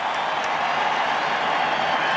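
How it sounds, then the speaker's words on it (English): A packed stadium of Redskins supporters at Super Bowl 17 against the Dolphins keeps up a dense, unbroken cheer, loud and distant, with no single voice standing out. "It's a Redskin crowd."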